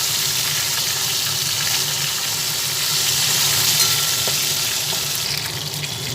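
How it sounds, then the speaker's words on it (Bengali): Tilapia fillets sizzle steadily in hot oil as they are turned over, a loud continuous crackling fry with brief stirring and clinking of a spatula, no voices. "একটা ভাজা হয়ে গেছে তাই জন্য মাছগুলো সবকটা উল্টে দিচ্ছি"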